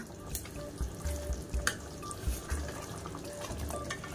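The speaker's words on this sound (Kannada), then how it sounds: "ನೋಡಿ ಸಾಂಬಾರು ಕುದೀತಾ ಇದೆ. ನೋಡಿ ಗ್ರೇವಿ ಕುದೀತಾ ಇದೆ ಅಲ್ಲ." Fish curry gravy bubbling in a pot, a steady wet simmer with soft pops and small splashes, close and moderately loud, with no talk over it.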